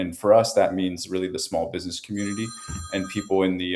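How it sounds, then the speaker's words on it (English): A phone rings partway through, a steady electronic tone sounding briefly beneath continuous close speech from one person. "excuse my phone's ringing"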